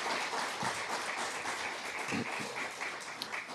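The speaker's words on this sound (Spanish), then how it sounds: "Le damos un aplauso más cariñoso a cada uno de los expositores" Audience at a law conference applauding the speakers: dense, steady clapping from a crowd that holds at an even level for several seconds without letting up.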